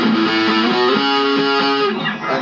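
An electric guitar with distortion switched on plays the intro to a song, a few loud sustained power chords ringing close and alone.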